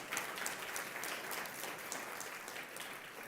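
Steady audience applause at a food policy summit in North Carolina, a dense wash of clapping that holds evenly at moderate, slightly distant level throughout.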